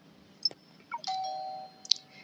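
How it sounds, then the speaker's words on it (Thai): A doorbell outside a shop in the video game Honkai Impact 3 rings once, a bright electronic chime with a sustained tone and a short sparkling ding at the end, clear and close with no voices. "เสียงกระดิ่งนอกร้านก็ดังขึ้น"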